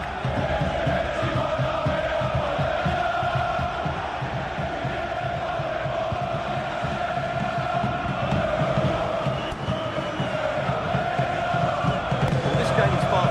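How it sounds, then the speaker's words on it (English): Stadium crowd in the football video game FC26, a dense, steady roar of many voices with chanting and cheering that holds loud throughout, with no let-up. "The crowd certainly thinks so. Just listen to that noise."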